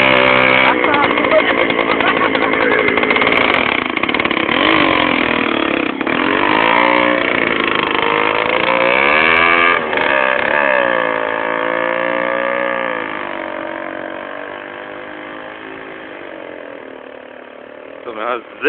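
A homemade rally vehicle powered by an Aprilia motor runs continuously, a loud buzzing two-stroke-like drone that rises and falls with throttle, close by and steady for the whole stretch, easing off toward the end.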